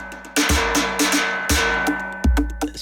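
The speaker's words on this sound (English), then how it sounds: "Trash can lid." A trash can lid one-shot from a nature percussion sample set is struck in a loose rhythm, each hit a loud bright metallic clang with a low thud and ringing tail, close and dry.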